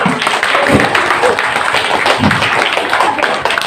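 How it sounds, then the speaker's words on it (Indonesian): An audience applauds a candidate at an election event, close, busy clapping mixed with crowd murmur and voices throughout the short stretch. "Penonton, berikan tepuk tangan sekali lagi untuk kandidat kita"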